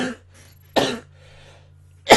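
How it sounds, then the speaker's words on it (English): Two short, sharp coughs from a man, separated by quiet stretches, close to the microphone over a faint steady hum. "Sorry about that slight cough again."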